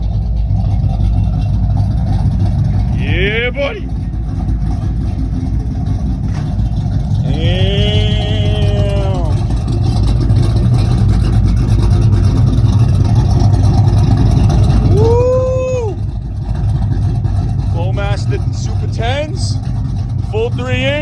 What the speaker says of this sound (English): All right, time to drive.